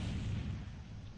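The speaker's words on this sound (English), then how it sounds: "And I'm throwing bombs, getting our bomb hit." Bombs explode in a Kislev versus ogres strategy video game, a short, dense, low rumbling blast that stays faint and muffled and is heard alone.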